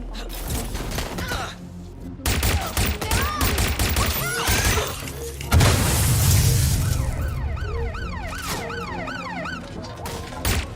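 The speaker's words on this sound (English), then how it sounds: "Taking fire!" Gunfire bursts and crashes in the Watch Dogs Legion game, mixed with wailing police sirens and a chaotic chase in the game's London, loud and dense with a heavy impact midway.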